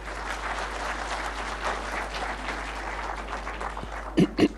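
A seated audience at a tax awards ceremony in Islamabad applauds in a steady, even wash of clapping, with a few loud thumps near the end.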